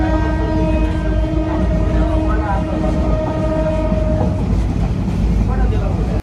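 A passenger train runs along the line from Dhaka toward Sitakunda, a loud, close, continuous rumble and rattle of the carriages, with a sustained horn-like tone sounding over it for the first few seconds.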